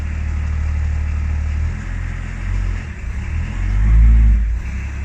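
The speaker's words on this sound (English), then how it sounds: "Actually, I'll give it a bit of a rev in each gear." A Range Rover P38 engine, said to lack power, rumbles low and close with the handbrake on, then gives a short rev that swells and falls back.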